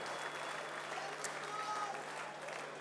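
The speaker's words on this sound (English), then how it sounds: "big round of applause to both fighters" A crowd claps for both fighters after a Zac Dunn versus Liam Cameron boxing bout, a quiet, distant, even patter of applause with a voice speaking over it.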